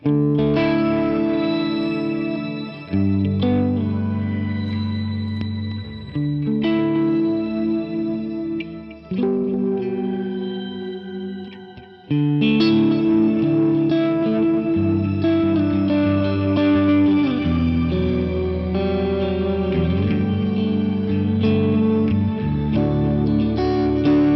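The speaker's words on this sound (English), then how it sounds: "all of a sudden I have a shimmer reverb that I can just use" Electric guitar chords ring out through a shimmering, octave-up reverb from a Line 6 HX One effects pedal that swells into a bright, sustained wash, playing steadily with no talking.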